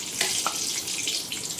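Curry leaves fry in hot oil for corn chivda, a steady close sizzle with a couple of brief crackling pops over the hiss.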